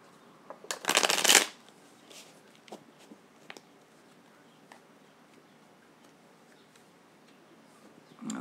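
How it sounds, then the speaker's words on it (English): A deck of tarot cards is riffled in one quick, loud burst of rapid flutters, followed by soft taps and light handling clicks of the cards nearby. "Okay, this is the last time shuffling."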